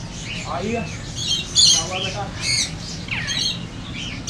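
A five-month-old parrot at a Karachi exotic bird market lets out harsh, angry squawks in several bursts, with someone talking in the background between calls.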